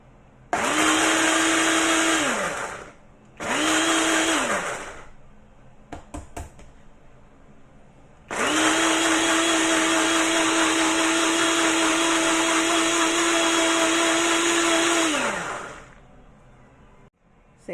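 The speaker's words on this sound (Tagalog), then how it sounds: "Ito na guys, i-blend muna natin ang onions." A blender chops onions for pumpkin soup with two short loud whirring pulses, a few knocks, then a long steady roar of about seven seconds that winds down at the end.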